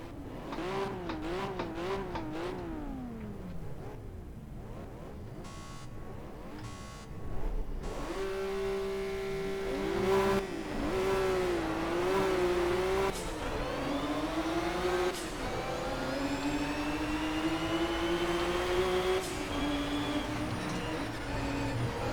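Race car engine revs and shifts on track in Project CARS, a GT3-style car whose pitch climbs and drops through repeated gear changes, loud and continuous with some tire noise.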